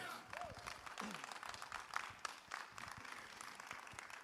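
A church congregation applauds during a service, a soft, scattered patter of clapping with murmuring voices and a few brief tonal sounds in the room.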